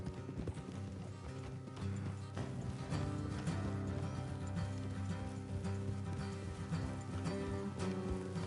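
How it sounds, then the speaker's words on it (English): Horses' hooves clip-clop in a steady rhythm on a road in a video game ride, with game music and ambience underneath and no speech. "Let's leave the horses here and go the rest on foot."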